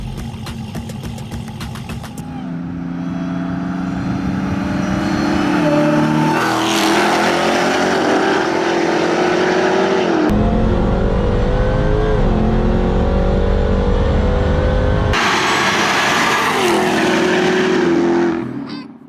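A Dodge Demon and a Jeep Trackhawk roll race on a street: engines rev hard and climb through several gear shifts, loud and close, with a roaring pass and a fresh burst of acceleration near the end.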